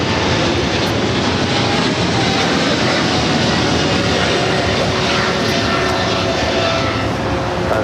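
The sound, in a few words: China Airlines Cargo Boeing 777 freighter taking off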